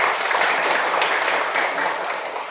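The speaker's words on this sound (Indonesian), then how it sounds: "Tepuk tangan untuk kelompok 1" Classroom applause for a student group after their presentation, a dense steady wash of many hands clapping together for a couple of seconds, fairly close and even, with no voices over it.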